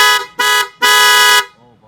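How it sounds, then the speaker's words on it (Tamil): A Hella Black Pearl car horn fitted to a 2022 Maruti Alto K10 sounds three loud, bright blasts close up: two short honks, then a longer sustained one, followed by quiet. "ஹெல்லா பிளாக் பெர்லோட ஹாரன்."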